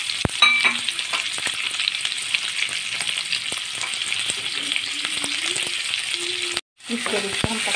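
Two large chopped onions fry in hot oil with a continuous close crackling sizzle, broken by sharp stirring clicks and a brief silent gap near the end, with no voices.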